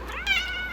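A house cat gives a single short, clear meow, close and fairly soft, rising then holding a thin tone over quiet room background; no speech.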